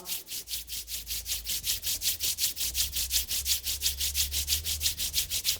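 Palms rubbing briskly together, producing a fast, even, repeating swish, close and clear with no talk.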